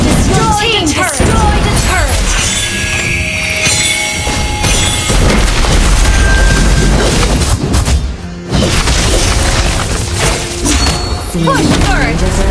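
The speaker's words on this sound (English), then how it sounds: "Your team destroyed the turret." A turret is destroyed during a ranked match of the mobile game Mobile Legends. Loud booming impacts and crashing effects pile up amid dense game sounds, with a brief drop near the end before the action resumes.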